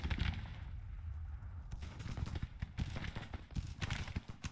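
Gunfire crackles through a battle in the Civil War strategy game Grand Tactician during a Union clash at Memphis: a continuous, fairly distant rattle of musketry and cannon shots, with scattered sharper reports rising out of the din.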